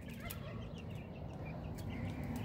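Backyard chickens, including olive eggers, forage in the yard, giving a continuous low murmur of clucks and gobble-like calls, moderately distant, over steady outdoor background noise.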